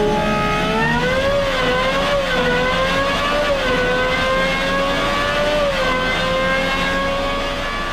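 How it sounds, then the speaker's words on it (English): A Gordon Murray T.50 supercar's Cosworth V12 road-car engine holds a high, sustained rev, a loud, close, smooth whine with rising and falling harmonic overtones and no talking over it. "This is the world's highest revving road car engine ever at"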